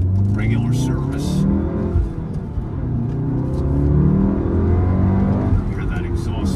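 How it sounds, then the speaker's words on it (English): A 2016 Volkswagen Golf R with about 50,000 miles revving its exhaust, a deep throaty engine note that rises and falls under someone talking throughout. "You hear that exhaust tone? It's nice, but it's not obnoxious."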